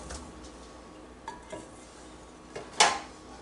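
Minced beef going into a pan in a home kitchen, with soft scraping and light clinks of a utensil against the pan, ending in one sharp metallic clink.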